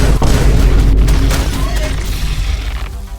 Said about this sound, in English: Peeped the queen, and she immediately started just firing off shots.